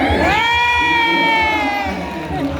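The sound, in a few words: crowd shouting and cheering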